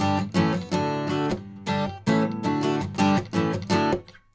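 An electric guitar strums the pre-chorus chords of a song at full speed, in choppy, muted, cut-off strokes with a rhythmic pulse, close and alone.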